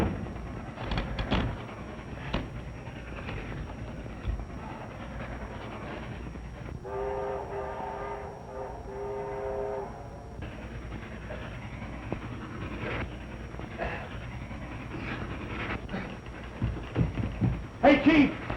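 A train passes by in an old mystery-thriller film soundtrack: rumbling rail noise with a brief chord-like horn or whistle blast in the middle, mixed under talking voices.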